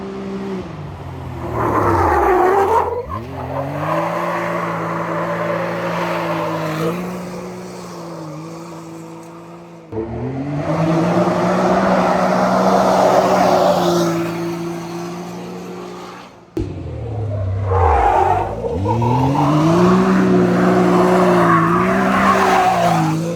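A buggy drifts on a paved street, its engine revving and droning while the tyres squeal and skid in long sustained bursts, three passes separated by brief drops in sound, loud and close.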